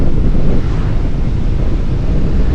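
Strong buffeting wind roars across the microphone throughout a fast gravel bike descent on a snowy mountain pass road in Austria, loud and continuous with no let-up.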